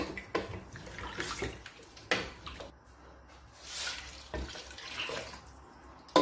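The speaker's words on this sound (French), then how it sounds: "Et là, j'ajoute de l'eau claire." Clear water poured into a cooking pot while preparing a home recipe, giving a close, fairly soft splashing and gurgling pour that swells and eases in several surges, with no talking.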